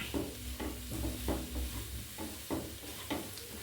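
Vallicheera greens with grated coconut and masala being stirred in a pan, quiet rhythmic scraping strokes about every half second over a faint sizzle, close and with no voices.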